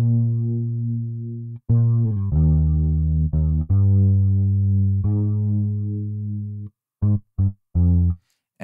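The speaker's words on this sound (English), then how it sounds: "there was a nice chorusy effect that just really caused this bass to just kind of just become wide and heavy" A heavy, wide bass line with gritty distortion and a warbling chorus effect, sustained notes with a few short stabs near the end.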